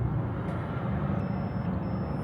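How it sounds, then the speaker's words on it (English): A truck passing by outside a car being worked on, a loud, steady low rumble filling the whole moment with no voices. "Once this truck passes,"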